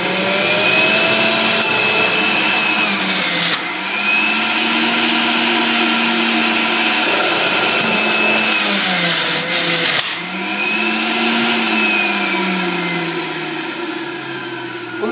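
An electric juicer whirs loudly and steadily as it grinds carrot and cucumber into juice, its motor pitch dipping and recovering each time produce is pushed in, close up with no talking.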